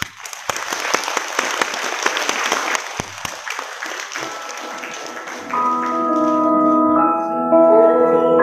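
An audience at a thank-you sharing event in Fengyuan breaks into steady, dense applause that carries on for several seconds. A sustained melodic music intro rises beneath the clapping toward the end.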